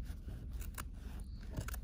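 Scissors snip and rasp through quilt fabric in a few quick, close strokes, with a soft scraping texture between cuts.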